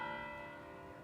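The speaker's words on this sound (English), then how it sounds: "I love the sound of the bells." Church bells of Pamplona cathedral ring at five o'clock, a single sustained tone with a rich stack of ringing overtones that slowly fades, fairly faint and with no one talking.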